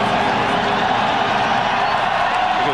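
A packed stadium crowd of Green Bay Packers fans at a 1996 NFL game against the Denver Broncos cheers in a loud, unbroken roar that fills the whole stretch.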